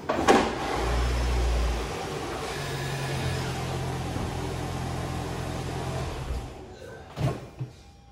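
A Lexus NX crossover's engine hums at low revs as it creeps up onto a pair of ramps in a garage. A steady drone rises and then cuts off, and a couple of sharp knocks follow near the end.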